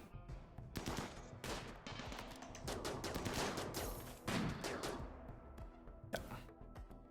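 Rapid, overlapping gunfire from a RimWorld battle, with colonists firing from cover at several angles, crackles steadily for several seconds, fairly quiet, in dense irregular bursts with no talk.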